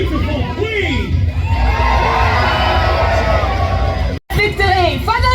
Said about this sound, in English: And cheer for our beautiful queen!